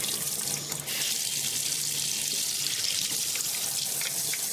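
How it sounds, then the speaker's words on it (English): Tap water runs steadily over the pulp-caked screen of an Omega 8005 juicer as it is rinsed under a faucet, a continuous close hiss and splash with no voices. "And you're just going to rinse that out."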